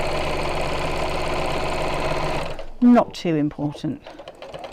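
A sewing machine runs a quarter-inch seam in one steady mechanical whir for about two and a half seconds, then stops; a voice speaks in short bursts afterward.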